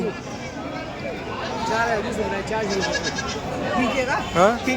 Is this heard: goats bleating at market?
yes